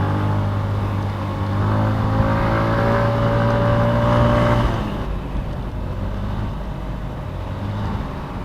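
A Yamaha Mio scooter's small engine hums steadily on the road, holding a rising tone before easing off mid-way, then continuing at a lower pitch amid road noise, close and without talk.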